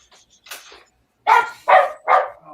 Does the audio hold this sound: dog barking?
yes